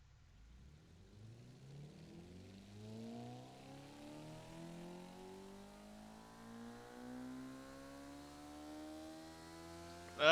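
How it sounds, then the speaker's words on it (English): A simulated car engine in the Automation and BeamNG.Drive games revs steadily upward over about ten seconds, its tone climbing smoothly from a low hum to a high whine, heard alone and fairly quiet, ending in a sudden loud burst. "How does the engine sound?"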